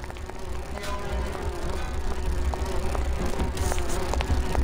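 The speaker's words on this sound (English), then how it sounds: "It's a group of giant bees." Swarm of giant bees in Grim Fandango Remastered, a continuous dense insect-like buzz with a steady drone, loud and close throughout.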